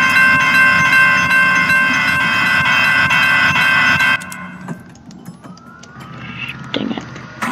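A loud, rumbling train roars close past a school bus stuck on the tracks for about four seconds, then the noise drops away, leaving fainter mechanical clanks and scattered higher sounds.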